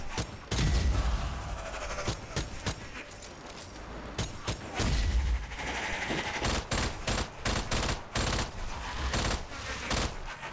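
Strange Brigade game combat: rapid, dense gunfire bursts and thumping shots fill the scene continuously, loud and close throughout.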